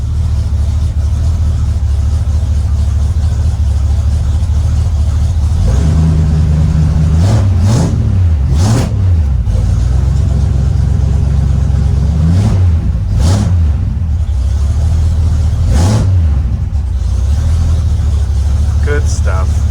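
An old Ford Galaxie idles with a deep, steady rumble, broken by several short revs that rise and fall, while someone talks over it.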